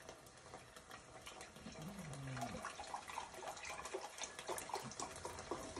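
Liquid is poured into a measuring cup set flat on a counter for a pasta dish, giving a faint, soft trickling splash that builds over a few seconds, alone without talk.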